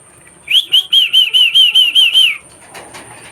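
Pigeons flap their wings in a quick burst of about ten loud, evenly spaced beats, each with a whistling edge. Quieter rustling follows once the flapping stops.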